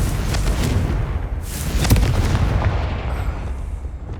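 A Confringo blasting spell fired in Hogwarts Legacy, a heavy booming explosion with a rumbling low-end burst and a crackling tail, loud and close, fading over a few seconds.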